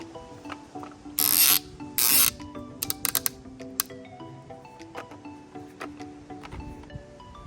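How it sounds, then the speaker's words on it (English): A hose clamp is tightened on a pool vacuum hose, giving a close run of ratcheting clicks with two louder bursts early on, then lighter scattered ticks. "tightening the hose clamp"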